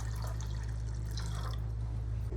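Water is poured into a pot of boiling homemade cotton seed milk, a soft, continuous trickle and splash over a steady low hum.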